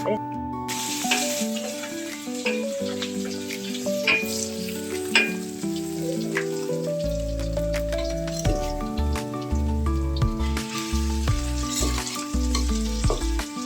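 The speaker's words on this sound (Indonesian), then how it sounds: "Sebelum kita tumis dulu bawang merah supaya lebih wangi." Shallots sauté in a pan with a continuous close sizzle and frequent stirring scrapes. A voice talks and low background rumbling comes and goes.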